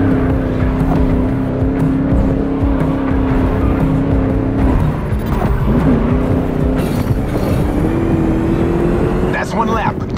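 American muscle car engines roaring continuously at high revs during a lap race in The Crew Motorfest, loud and sustained with a shift in pitch midway, with a voice talking over it.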